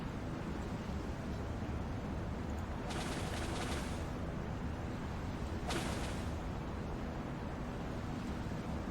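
Flak gun on a submarine in the Silent Hunter 5 naval game fires two short, crackling bursts a few seconds apart over a steady, dense drone of sea and engine noise.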